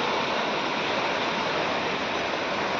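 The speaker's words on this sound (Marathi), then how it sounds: "एका दिवसात झालेल्या पावसामुळं वाडा बघा किती तुडुंब भरून वाहतोय" A stream swollen by heavy rain rushes past carrying wood and debris, a loud, steady, close roar of churning water with no breaks or voices.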